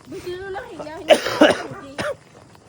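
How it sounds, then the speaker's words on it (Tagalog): A voice talks briefly, then breaks into a few harsh coughs, two close together and one more a moment later, near and fairly loud. "may ubo pa ako"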